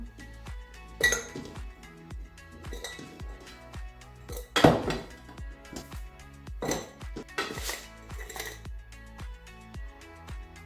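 Pieces of beef and chicken being dropped into a container for stock make a run of sharp clinks and clatters, irregular knocks close by with one louder clank midway, no voices.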